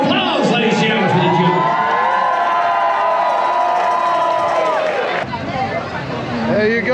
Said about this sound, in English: A round of applause, ladies and gentlemen, for the